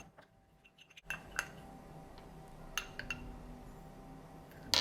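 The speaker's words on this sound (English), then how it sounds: "We're just going to use 1 teaspoon and stir that in" A teaspoon stirs honey into yeast in a glass or bowl, making a few sparse, light clinks and taps after a quiet first second.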